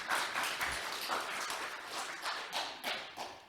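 Audience clapping at a church fall gathering, a faint, steady patter of many hands with a few sharper individual claps standing out, heard from a distance in a large room.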